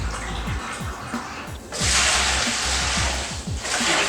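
Cooled beer wort for a Belgian tripel splashes into a vessel as it is aerated, a close gurgling trickle that breaks into a louder rushing pour midway and continues steadily.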